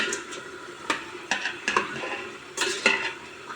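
Chickpea dish with salt stirred and sautéed in a pan: a close, gentle sizzle broken by a handful of utensil scrapes and clinks against the metal, with no one speaking.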